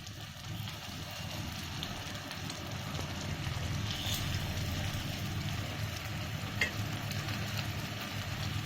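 Rava paniyaram fry in a little oil in a non-stick pan, giving a steady, soft sizzle and crackle that continues evenly throughout with no one speaking.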